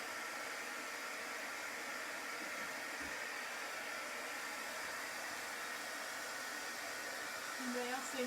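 Handheld dryer blowing hot air onto a chalk craft project, a steady whooshing hum running continuously at close range, with a faint voice briefly near the end.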